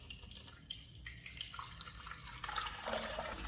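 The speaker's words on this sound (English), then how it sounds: "fill the tank with tap water to max line" Tap water runs and splashes into the water tank of a TICWELL Whale W1 cordless wet dry vacuum. The flow is quiet and steady, and its pitch shifts as the tank fills.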